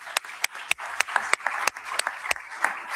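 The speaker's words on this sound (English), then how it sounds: "please join me in a round of applause" Sparse applause from a conference audience at a global AI, security and ethics event, scattered distinct claps fairly soft and distant, heard alone.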